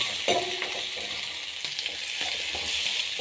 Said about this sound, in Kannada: ಎಲ್ಲವನ್ನು ಹಾಕಿ ಚೆನ್ನಾಗಿ ಫ್ರೈ ಮಾಡಬೇಕು